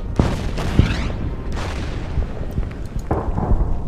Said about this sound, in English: Then I think I'll concentrate on bombing that one.